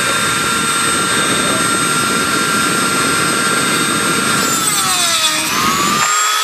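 A Dremel rotary tool cuts a slot into a screw head on a vintage Royal typewriter, a loud steady high-pitched whine that dips in pitch under load before cutting off.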